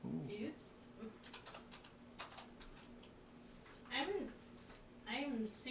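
Quick clicking taps on a computer keyboard, typed with long artificial nails, come in short uneven bursts, with someone talking over parts of it.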